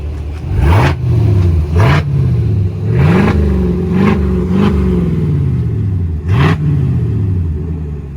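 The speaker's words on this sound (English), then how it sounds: "right now he gonna rev it up so y'all can hear the exhaust" A lifted 2021 Chevy Silverado with dual exhaust revs hard in repeated bursts, each throaty rise and fall of the engine rumbling loud and close, about six blips in quick succession with no talking.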